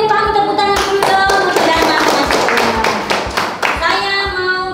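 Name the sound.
audience applause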